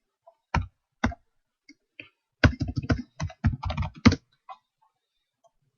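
A login name tapped out on a computer keyboard: a few isolated clicks, then a quick cluster of close, crisp keystrokes ending in a firmer press, in a quiet room with no voices.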